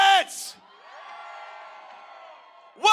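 Rally crowd roars with cheers and whoops, a loud burst at the start, a long sustained drone of yelling in the middle, and another sharp surge of shouting at the end.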